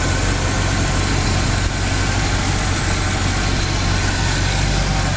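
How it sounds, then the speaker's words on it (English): A black 1965 Ford shortbox pickup truck's engine runs at a steady idle close by, a continuous low rumble with even vibration and no talk over it. "This is a great running truck."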